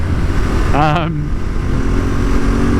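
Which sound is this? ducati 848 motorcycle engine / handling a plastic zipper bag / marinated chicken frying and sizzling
ducati 848 motorcycle engine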